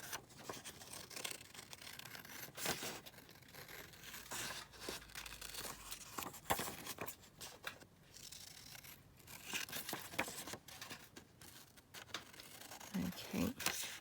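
Paper being cut down for a junk journal page, a run of close crisp snipping and rustling strokes, with crinkling handling noises and occasional soft talk between them.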